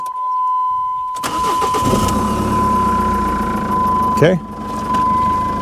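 A car with low coolant and a suspected head gasket or coolant line leak cranks briefly, then catches and settles into a loud, close idle. A short spoken word is heard over the running engine.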